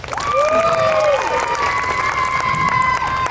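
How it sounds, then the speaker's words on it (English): A street crowd in Melbourne claps and cheers for two helpers holding a ladder at a Japanese juggling show, loud and sustained, with whistles or shrill calls rising and sliding above the applause. "Can we give these two a massive round of applause?"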